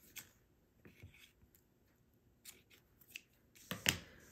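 Scissors snip through a paper craft piece with floral and bunny ephemera, a few faint, sparse cuts spread out in a quiet room, the last snip sharpest and loudest.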